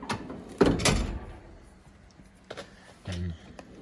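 Snap-on toolbox drawer sliding open or shut, a few sharp metallic rattles and clunks, the loudest near the start and two smaller ones later, close by and alone.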